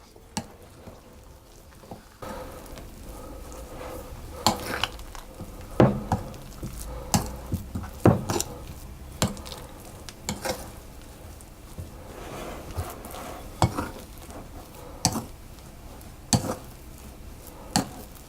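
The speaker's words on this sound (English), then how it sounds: "just to stir it all around until we get a dough forming" Sultana scone dough being stirred in a bowl with milk and flour, giving repeated soft scraping and knocking strokes in an irregular rhythm, close and fairly quiet, with no talking.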